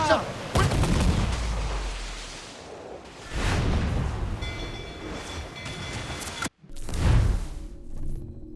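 Ship cannons in Assassin's Creed IV Black Flag boom out in a few heavy, rumbling volleys separated by quieter gaps of sea and ambience, with no voices.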